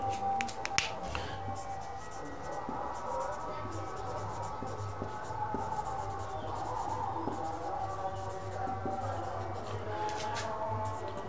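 A sentence is written on a board in an English grammar lesson, producing a continuous scratchy writing sound with a few sharp taps at the start.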